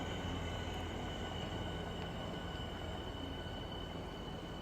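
A Class 465 electric multiple unit at Charlton station on a cold February day, heard as a steady, faint rumble of wheels and motors from a distance with a constant broadband wash and no speech.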